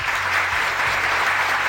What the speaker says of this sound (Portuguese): Cadê minhas palmas?